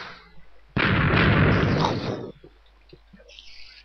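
Bombs going off in Minecraft, a sudden loud blast that rumbles on for over a second and then fades into quieter crackling debris.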